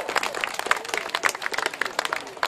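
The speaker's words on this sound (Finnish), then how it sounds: "Valtavat aplodit saa antaa" Outdoor audience at a log-splitting contest during the Anianpellon market in Asikkala claps in a steady patter, fairly close and mid-level, with a few louder claps and no clear talk over it.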